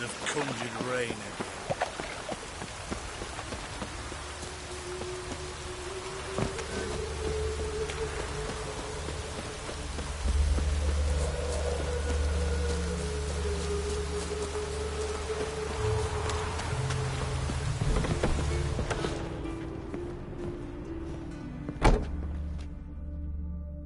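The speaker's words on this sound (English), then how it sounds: "Witches have conjured rain again." Steady rainfall in The Witcher 3 video game, a continuous hiss of drops with occasional thuds, while characters talk over it.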